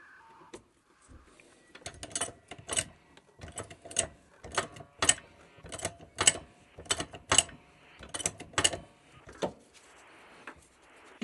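A motorcycle front fork being pumped up by hand to build pressure during a DIY fork seal replacement: about a dozen rhythmic mechanical pumping strokes, close and fairly even, with no talking.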